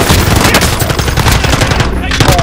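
Rapid automatic gunfire rattles nonstop in Call of Duty: Modern Warfare, loud and dense, with overlapping shots packed tightly together for a couple of seconds.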